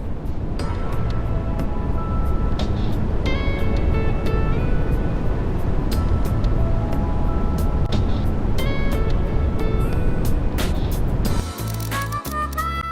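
Gingerbread cart cruising in a Roblox game, a continuous synthetic engine-like drone with repeated bright tonal chimes and clicks layered over it, ending in a brief change of sound near the end.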